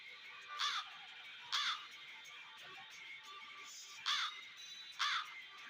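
A crow caws in four separate bursts, two close together early and two later, each a short harsh call against a quiet, hissy outdoor background.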